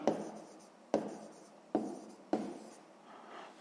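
A pen writes by hand on paper during a sixth-grade maths exercise, making four sharp strokes in a row, each followed by a short scratchy trail, close and quiet.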